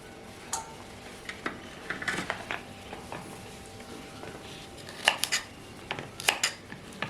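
A knife slices okra crosswise on a board in a home kitchen, giving irregular, fairly close clicks and taps that grow sharper and more clustered toward the end.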